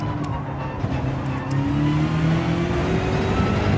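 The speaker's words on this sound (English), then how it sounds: "You don't like how the car sounds?" A steady engine drone from a car in Gran Turismo VR, holding a constant hum with a rising tone as it accelerates, loud and continuous with no talk.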